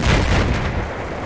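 A tank's main cannon fires in a video game: one loud, close booming blast that opens at full force and rolls off into a short rumbling decay.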